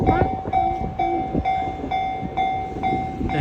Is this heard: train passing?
yes